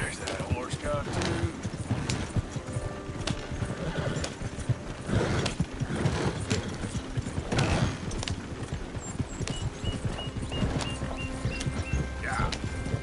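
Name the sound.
horse hooves clip-clopping in a PS4 video game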